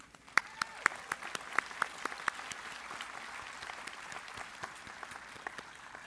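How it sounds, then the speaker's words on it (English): A graduation commencement audience applauds faculty, staff and administrators, a steady patter of distant clapping from a large hall with a few sharper nearby claps, gradually thinning toward the end. "please applaud and show your appreciation to our outstanding faculty, staff, and administrators"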